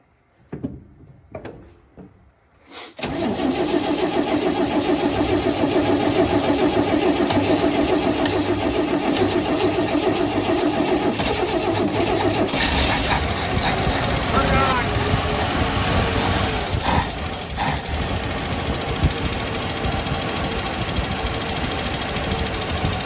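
A 1970 International Scout's 232 straight-six with a faulty carburetor accelerator pump cranks briefly, fires and runs loud and rough at a steady idle with a few revs, close by.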